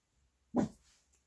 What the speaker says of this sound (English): Sorry, Reagan is barking